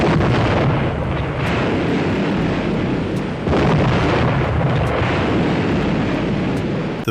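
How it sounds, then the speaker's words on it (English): Depth charge blasts at sea from the 1957 film The Enemy Below roar as a dense, continuous rumbling wash, loud and sustained, with a fresh surge partway through and no voices. "The explosions that shook the sea."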